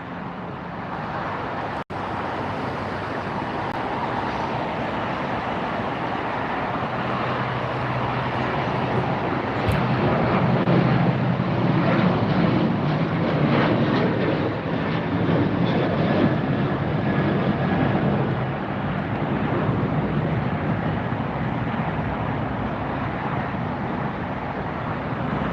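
A LOT Airlines jet departs LAX airport, its engines building into a broad, steady roar that swells in the middle and holds at a distance for the rest of the stretch.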